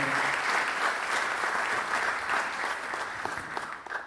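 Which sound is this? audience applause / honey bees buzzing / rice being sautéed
audience applause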